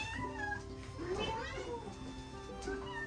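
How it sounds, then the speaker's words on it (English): Hungry cats meow repeatedly, close and insistent before feeding, with a person talking over them. "I'm going to feed the cats before they tear the place down."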